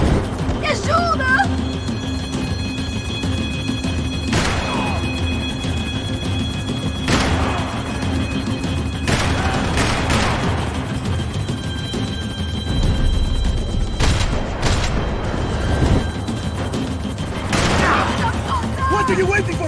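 Gunfire in Max Payne 3 during a helicopter chase, with bursts and heavy booming shots spaced through a loud, dense scene under shouting voices.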